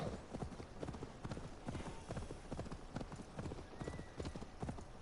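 Horse hooves clip-clopping in the Assassin's Creed Valhalla video game, a quick, steady stream of hoofbeats, some louder and some softer, continuing for several seconds with no speech over them.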